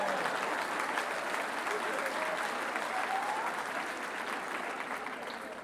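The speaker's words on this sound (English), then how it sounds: "Give yourselves a round of applause." Graduation crowd at Henry Viscardi High School's 2017 ceremony claps in a sustained, even round of applause that fills a large space and slowly tapers toward the end.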